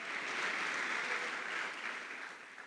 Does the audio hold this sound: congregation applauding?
yes